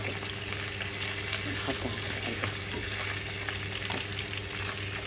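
Meat frying with garlic in a pan, a soft continuous sizzle close by with a steady background hum, while someone speaks briefly.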